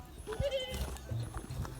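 A goat bleats a few times outdoors in the countryside, fairly faint and brief, with some background voices.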